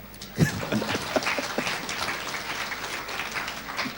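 A crowd claps and applauds steadily, a dense continuous patter lasting several seconds.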